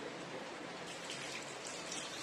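Water pouring into a cooking pot of browned chicken for Arabian chicken majboos, a faint, steady, hissing splash that holds evenly throughout with no talking.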